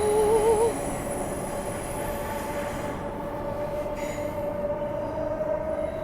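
A Transperth B-series electric train runs through an underground section of the Perth to Mandurah line, giving a steady close rumble with high wheel-squeal tones throughout and no talking.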